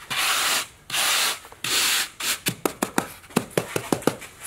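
A trowel works sloped shower pan mortar, first in three long rubbing, scraping strokes and then in a run of quick, sharp taps as the mortar is tamped down, close up with no talking.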